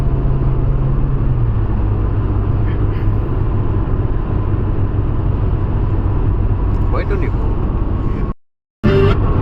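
A car cruises at speed on a mountain road during a road trip to Oman, with a loud, steady rumble of engine and road noise that cuts out briefly near the end.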